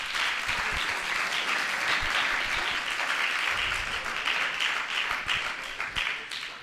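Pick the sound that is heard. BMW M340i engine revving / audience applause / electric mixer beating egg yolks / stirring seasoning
audience applause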